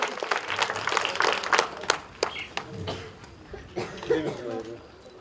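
Audience applause at a folk theatre award ceremony, a dense patter of clapping with scattered sharp claps that swells and fades over several seconds, with a few voices in the crowd.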